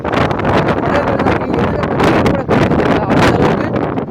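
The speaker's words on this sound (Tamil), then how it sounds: "காற்றோட வேகம்லாம் அப்படி இருக்குது." Strong cyclone wind blasts over the Pamban bridge, a loud, continuous roaring buffet against the microphone that surges and dips in gusts throughout, with boats moored nearby and no talking.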